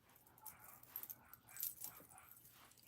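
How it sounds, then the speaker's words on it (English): Dogs barking outdoors at a rural home with goats nearby, heard faint and distant through indoor room noise as a few scattered yips and barks, with a jingle of keys. "I hear my dogs out there. They're barking at something."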